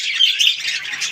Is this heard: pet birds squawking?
yes